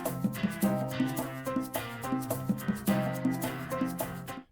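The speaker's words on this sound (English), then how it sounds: "We have a conga, a shaker, a piano, and a guitar" A small band groove of conga, shaker, piano and guitar, with hand-drum hits and shaker pulsing steadily under sustained chords, clean and full.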